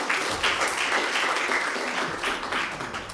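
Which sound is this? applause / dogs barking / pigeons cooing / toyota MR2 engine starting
applause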